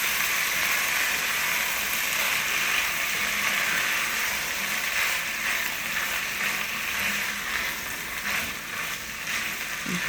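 Vegetables sizzling and frying in a pan for pulao rice, with steady crackling, hissing sizzle and light scraping as they are gently stirred, loud and close throughout with no talking.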